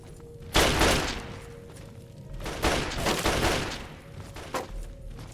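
Repeated bursts of gunfire in the video game Fallout 3, loud broadband blasts in several volleys with a steady hum underneath and no talk.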